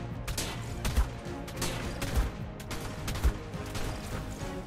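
Gunfire in the survival game ARK during a PvP fight, three heavy booming shots spaced about a second apart under a busy, noisy game background.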